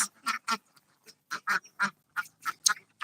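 Ducks on a duck farm quack in a quick series of short, nasal calls close by, one after another with brief gaps, no other sounds around them.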